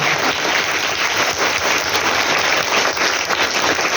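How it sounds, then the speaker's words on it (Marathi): An audience at a children's Marathi literature gathering at a school in Kodoli bursts into loud, sustained applause for a guest, many hands clapping densely and evenly for four seconds. "पुन्हा एकदा गायकवाडांसाठी जोरात टाळ्या वाजवा, एवढा वाजवा."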